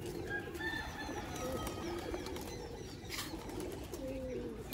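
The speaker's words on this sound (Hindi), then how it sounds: "ये देखें ये नीचे उतर रहे हैं कबूतर" Several pigeons coo in soft, repeated low phrases while the flock comes down into their loft, with occasional wing flaps and faint chirps over steady background noise and no talking.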